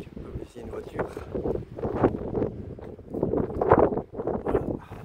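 Wind gusts steadily at the coast of Camaret-sur-Mer in Brittany, roaring and buffeting the microphone without a break. A voice can be heard under the noise.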